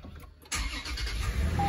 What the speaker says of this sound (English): it will actually start the vehicle